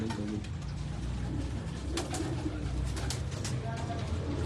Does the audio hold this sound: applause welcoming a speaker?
no